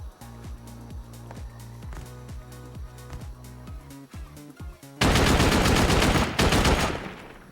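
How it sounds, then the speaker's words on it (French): Loud, dense burst of rapid explosive-ammo gunfire in the survival game Rust erupts and holds for about two seconds, cutting in over rhythmic background music with a steady beat. "Je prends des balles explos qu'il faut pour refermer et on se la fait."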